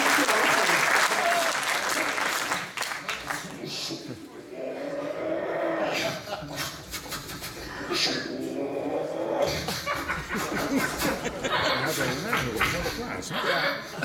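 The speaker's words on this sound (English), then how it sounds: "applause for the technique" Audience applause for a musical clown's act, a dense burst of clapping that dips briefly and then swells again, mixed with some laughter and a voice speaking underneath.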